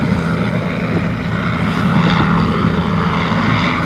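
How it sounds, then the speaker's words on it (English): A helicopter hovers low over offshore racing sailboats during an in-port race in Cape Town, its loud constant rotor and engine drone filling the scene close by, steady and unbroken with no talking. "Got the chopper sat right in front of Malizia."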